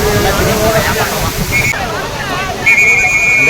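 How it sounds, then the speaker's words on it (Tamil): Flash-flood water rushes and sloshes loudly at Old Courtallam falls, a dense churning roar close by, with people talking and shouting over it. "வெள்ளம் வருது."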